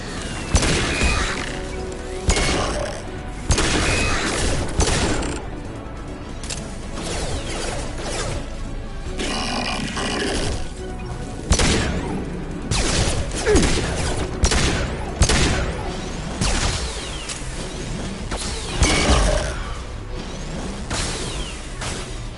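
Grenade blasts and sustained gunfire in the sci-fi shooter Mass Effect 2, loud and dense throughout with repeated bursts, booms and whooshes layered over continuous combat noise.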